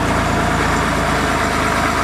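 A 5388 tractor's engine drones loudly and steadily while cruising in a tractor parade, a dense unbroken rumble with a fast low throb and no talk.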